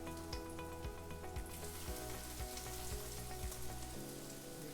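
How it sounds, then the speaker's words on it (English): Sheepshead fish fillets fry in a pan of hot oil with a steady, close sizzle and crackle and a soft rain-like hiss. A few faint ticks and pops sound through it, and no one speaks. "Nice little sizzle."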